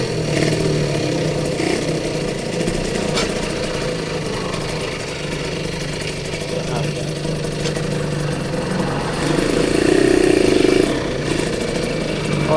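Suzuki Satria two-stroke motorcycle running through city streets, its mid-pitched engine humming steadily up close with a brief louder rise near the end, along with passing traffic sounds.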